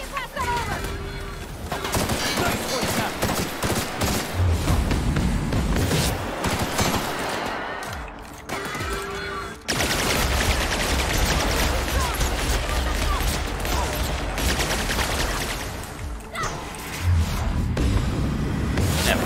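Sustained assault rifle fire from The Outer Worlds on Hard difficulty, dense rapid bursts running almost continuously with a brief pause, under game sounds and occasional talk.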